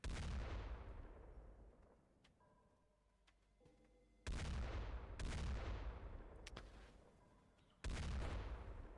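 Gunfire from a hunting rifle in the turn-based strategy game X-COM Files, with three loud, booming shots spaced several seconds apart, each decaying into a long rumbling tail.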